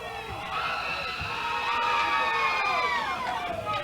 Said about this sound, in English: And this crowd is going wild.